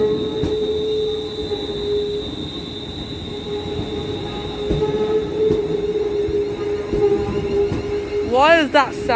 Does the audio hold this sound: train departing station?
yes